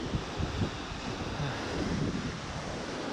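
Sea waves on the Algarve coast wash and surge through a rocky channel carved by the sea, in a continuous rushing roar, with wind buffeting the microphone.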